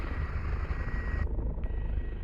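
Helicopter hovering overhead during a stretcher hoist rescue, a loud continuous rotor and turbine roar with steady low thumping that stays dense and close throughout, a brief dip in the upper whine midway.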